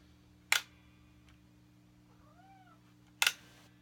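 A cat gives one soft, short meow, faint and in the background, between two sharp clicks in a quiet room where an electric guitar with a homemade pickup sits hooked up and humming.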